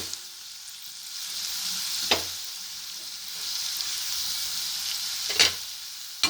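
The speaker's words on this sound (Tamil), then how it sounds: "இப்போ இதை நல்லா கலக்கி விட்டுருங்க." Raw mango is stirred into Karnataka-style mango rice in a pan with the stove switched off, giving a steady soft sizzle and a couple of sharp spoon scrapes against the pan.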